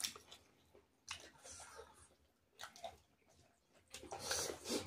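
Close, wet chewing and biting of chicken meat during a home mukbang meal, with several squishy bursts separated by quieter pauses and no talking.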